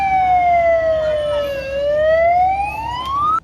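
A fire engine siren wails close by, its pitch sliding down and then rising again, over the rumble of a vehicle.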